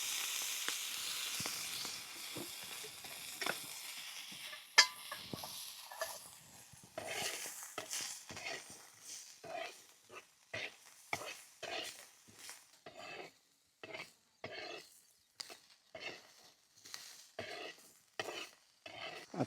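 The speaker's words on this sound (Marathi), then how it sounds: "तेल ओतून पावटा चांगला भाजायचा म्हणजे खमंग लागतो." Shelled field beans (pavta) roasting in oil on a flat iron pan give a soft sizzle under a long run of rhythmic scraping stirs, close and fairly quiet, with brief pauses between strokes.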